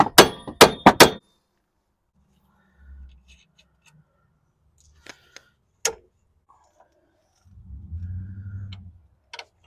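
Metal hammer blows driving out the front strut bolts on a 2008 Pontiac G6: three sharp, loud strikes in quick succession, then sparse lighter taps and clinks, with a brief low voice murmur late on.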